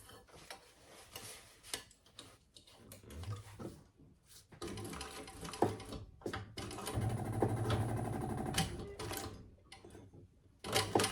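A home sewing machine stitches a bucket bag in short uneven bursts of close mechanical whirring and ticking, broken by pauses and clicks, with a longer steady run near the middle.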